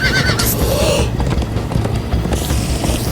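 Horses gallop in the Minecraft: Story Mode video game, with loud, continuous thudding hoofbeats and a sharp neigh near the start, then a rushing burst toward the end.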